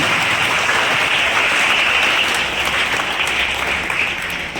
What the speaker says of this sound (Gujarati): તમારા બધા માટે તાળીઓ પાડીએ.